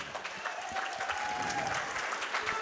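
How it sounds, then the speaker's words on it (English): Audience applause at a sports radio road show, a fairly faint, even patter of clapping hands from a modest crowd lasting a few seconds, with a thin steady tone underneath. "Let's give him a round of applause."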